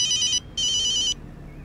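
A telephone rings with an incoming call from mum, two bright electronic ringtone bursts separated by a short gap, clear and alone against a quiet room.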